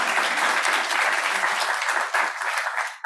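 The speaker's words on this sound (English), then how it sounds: "Can we get a round of applause?" An audience at a design awards ceremony breaks into a loud, dense round of applause that holds steady and then thins toward the end.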